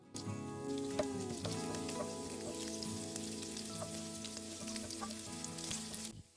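Curry leaves, ginger, garlic and green chilli dropped into hot oil for a Kerala egg roast, crackling in a dense, bright sizzle with sharp pops, loud and close, settling steadily before cutting off abruptly.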